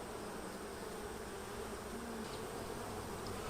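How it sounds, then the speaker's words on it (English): Honey bees buzzing around an open beehive, a dense, steady hum of many insects close by, continuous and even with no pauses. "Oh yeah, this hive is in full swing."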